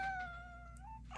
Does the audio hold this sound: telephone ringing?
no